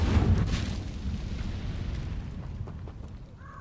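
An Incendio fire spell cast in the game Hogwarts Legacy hits with a loud whooshing burst that fades into a long, rumbling roar.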